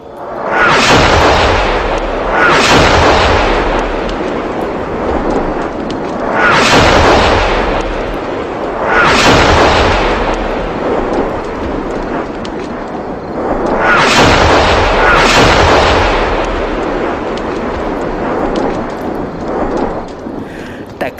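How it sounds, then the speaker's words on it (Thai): Enemy rocket and artillery fire, a harassing bombardment near a hilltop rocket base, comes as a series of loud, distant booming blasts, about five of them spaced a few seconds apart, each rolling off into a long rumble. "ต่อจากนั้นการยิงรบกวนของข้าศึกก็ได้เริ่มต้นขึ้นอีกครั้ง"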